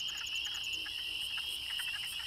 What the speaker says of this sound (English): The croaking-type sounds are those of the male wood frogs, while the other peeping sounds are those of the spring peeper, another species of frog